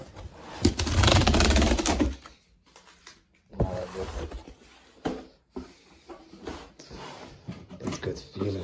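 A cardboard package holding an Al Rihla Qatar 2022 World Cup football is torn and opened up close, with a long loud ripping burst followed by shorter rustling, scraping and tearing bursts, with no talking.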